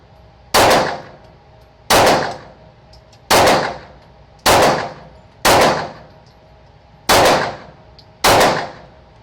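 Eight single pistol shots from a Smith & Wesson M&P 9 Shield EZ at an outdoor range, each a loud sharp crack with a short ringing tail, spaced evenly about a second apart.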